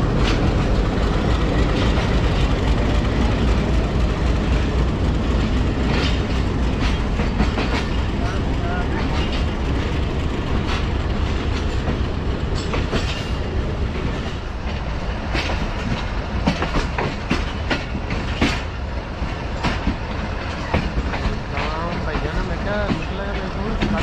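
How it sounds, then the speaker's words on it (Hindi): A Pakistani passenger train, the 102 Down Subak Raftar rake bound for Lahore, rumbles at Rawalpindi station with a steady loud roar and scattered clatter and clanks throughout, while someone talks over it. "सामने 102 डाउन सुबह रफ्तार रेलगार का रेक जो है वो तैयार हो रहा है"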